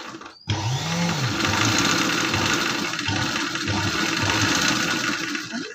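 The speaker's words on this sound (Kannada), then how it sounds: "ಅದರೊಳಗಡೆಗೆ ಈ ರೀತಿ ಸೇರಿಸ್ಬಿಟ್ಟು ನಿಧಾನವಾಗಿಯೇ ಮಷೀನ ಮೂವ್ ಮಾಡಬೇಕು." A sewing machine running a zigzag stitch with golden thread, starting after a brief pause and then humming and whirring steadily at close range, with a faint rhythmic mechanical beat and no speech.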